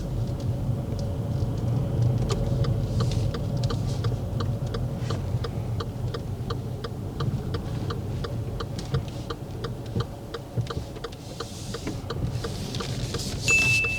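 A car creeping into a parking bay during a driving test, with a low steady engine rumble inside the cabin and a rapid, even ticking like an indicator running throughout.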